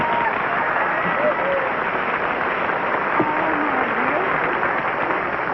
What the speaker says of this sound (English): Thank you very much for that kind applause